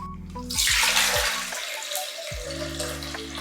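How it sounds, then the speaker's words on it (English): Watermelon and pineapple juice pours steadily from the spout of a Hurom H320 slow juicer, a continuous loud liquid rush with splashing, while the motor hum stops partway through and then resumes. "So let's stop it and go ahead and release the juice."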